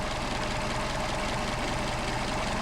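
Mercedes 190SL engine with twin Solex 44PHH carburetors idling steadily, a close, continuous low rumble with an even pulsing beat and no voices.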